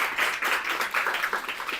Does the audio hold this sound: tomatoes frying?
no